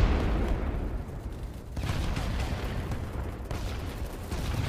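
Gunfire in the Battlebit Remastered shooter game: dense, continuous bursts of shots with a loud rattling wash, broken by a couple of brief sharp drops, heavy and close throughout.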